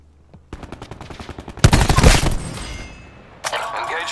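Video game gunfire as shooters open up: a run of evenly spaced single shots builds into a heavier, louder volley, fades, then a fresh burst cracks near the end.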